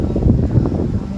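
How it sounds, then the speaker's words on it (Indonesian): Strong wind gusting during a rainstorm in Penang, a rough low rumbling buffet close to the microphone, surging and easing over a second or so. "Ada angin yang kuat sekali hingga nah tengok nih."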